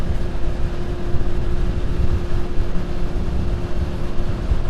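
A Honda Hornet motorcycle fitted with a LeoVince exhaust and sports catalytic converter roars at speed, a loud, deep, sustained engine rumble with a steady droning tone, close and continuous with no voices.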